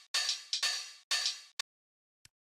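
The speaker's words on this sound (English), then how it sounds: "So the hi-hats on their own sound like this." Open and closed hi-hat drum samples from a lo-fi house loop, heard alone: three longer open hats alternating with short closed ticks, then a final soft tick, crisp and close with no other instruments.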